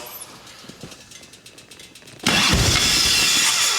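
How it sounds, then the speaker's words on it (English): A 1989 Harley-Davidson Ultra Classic with carburetor trouble and air leaks catches and settles into a loud, rough idle after a quieter stretch of faint clicks and shuffling. "Definitely sounds like some air leaks still."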